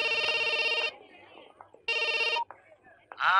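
A telephone rings in a Telugu film climax scene, two loud electronic ringing bursts about a second apart, with quieter voices and background sounds in the gaps and a brighter tone rising at the end.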